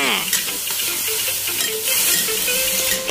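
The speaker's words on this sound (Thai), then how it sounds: "ผัดต่อไปอีกนะคะ" Eggplant is stir-fried in a pan for Thai basil eggplant, giving a close, continuous sizzle broken by scraping strokes of the spatula, with no talking.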